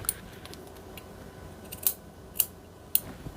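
Scissors snip through a tail of crochet yarn while a small bag is being made, giving three short, crisp cuts spaced about half a second apart, close and clear over a quiet background.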